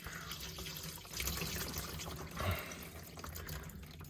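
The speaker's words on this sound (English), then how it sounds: "So we'll go ahead, let this drain for a bit." Motor oil draining from a 2015-2020 Ford F-150 after a flush, a steady liquid trickle and splash into a pan, faint and continuous throughout.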